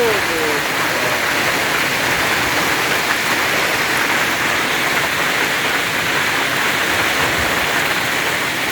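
Heavy rain mixed with hail pours down in a loud, dense, unbroken roar that stays constant throughout, close and enveloping.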